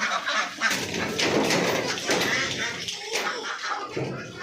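Ducks on a duck farm quack and honk repeatedly nearby, a noisy overlapping flock, with people's voices mixed in.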